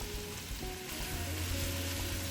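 Fresh vegetables with salt and a little turmeric sizzle steadily in a frying pan, a continuous close hiss and crackle with no talk, for a Bengali eggplant and potato dish with chapa shutki.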